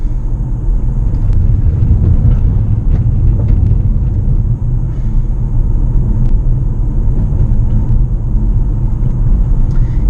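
A Mitsubishi Outlander PHEV climbs a hill on a one-lane road at under 60 km/h, heard from inside the cabin as a loud, steady low rumble of road and drivetrain noise with no talking.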